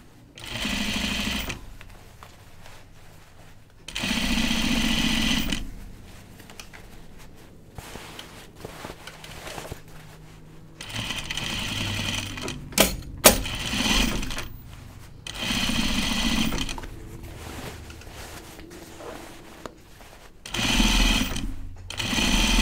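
Sewing machine stitching a seam on a pair of jeans, repeated bursts of steady whirring a few seconds long separated by short quiet gaps, close and loud with no voices.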